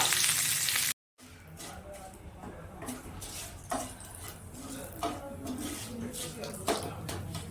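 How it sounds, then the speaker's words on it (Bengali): Ginger paste and spices hit hot oil with asafoetida in a pan, producing a fairly quiet continuous sizzle with occasional stirring clinks after a brief cut, while a voice speaks over it. "এবারে আমি দিয়ে দিচ্ছি আদা বাটা"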